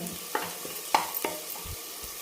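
Green masala paste sautés in oil for a village-style chicken sukka, a quiet, soft sizzle with a few distinct spatula scrapes and taps against the pan, close and without any talking.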